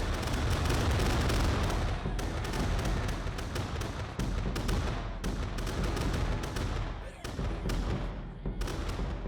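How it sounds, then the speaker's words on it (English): Rapid volleys of booming cannon fire in a Totally Accurate Battle Simulator battle crack out one after another, loud and dense like a barrage, with voices briefly underneath. "It sounded like a machine gun out of cannons"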